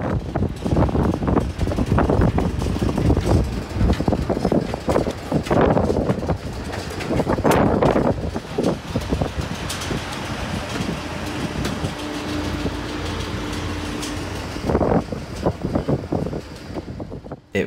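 Loud wind buffets the microphone in rumbling gusts at an airport while waiting to board a Vueling Airbus A320-200, easing for a while before surging again, with a low mechanical drone underneath.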